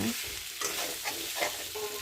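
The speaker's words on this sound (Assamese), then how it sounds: "আলুখিনি দি পিনে অকণমান মই ভাজিম।" Potatoes frying in a pan as the base for a pork curry, a steady close sizzle with scraping stirs of a spatula recurring roughly every half second, no voices.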